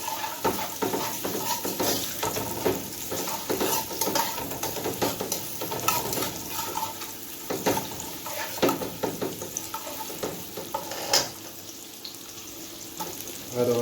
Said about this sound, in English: So start frying it so it can slightly cook.